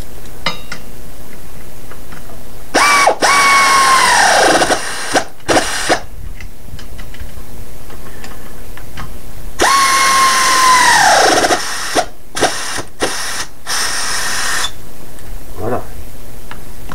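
Power tool tightening nuts on a pit jack rated for 500 kilos, two loud whirring bursts that wind down in pitch, separated by metallic clinks and handling noise.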